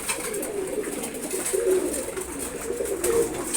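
Several pigeons coo continuously during a morning feeding, low rolling calls rising and falling over a steady hiss of background noise, moderately near with no voices.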